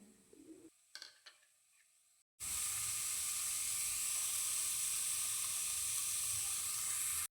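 Grated carrot hits a hot pan of golden-browned onions with a loud, steady sizzle that holds evenly to the end, following a few faint clinks and stirring sounds.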